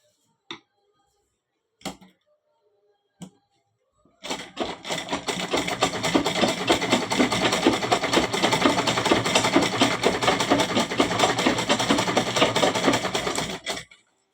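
A sewing machine stitches a pillow cover in one long, steady run of rapid mechanical clatter lasting about ten seconds, preceded by a few short isolated clicks and taps.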